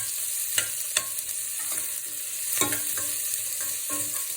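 Onions sizzle and fry steadily in a pan for a Tamil broccoli and spinach curry, with occasional stirring clicks and scrapes of a utensil, no voices.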